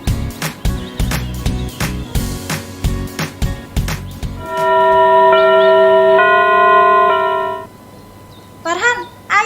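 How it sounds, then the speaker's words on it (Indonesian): An electronic school bell on a school morning rings as a steady, sustained chime for about three seconds, following a stretch of clattering percussive sounds, then cuts off. "bel udah bunyi nih"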